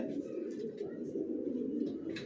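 Racing pigeons of long-distance lines coo softly in a low, continuous throaty murmur, several birds overlapping at close range with faint chirps above.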